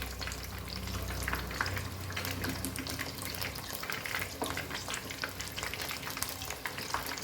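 Batter-coated sea bass deep-frying in hot oil, giving a continuous, even crackling sizzle at moderate loudness with no talking.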